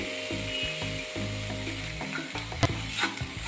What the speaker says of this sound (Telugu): బాగా ఫ్రై అయిపోవాలి